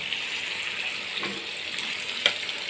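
Goat meat sizzling steadily in a pan as it is sautéed for mutton biryani, a continuous close hiss with a few small pops and no talk.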